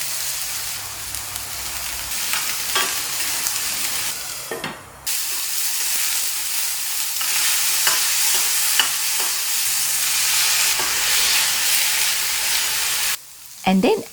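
Chopped ridge gourd and a green chili frying in a teaspoon of coconut oil, a steady close sizzle with repeated clinks and scrapes of stirring and two short pauses.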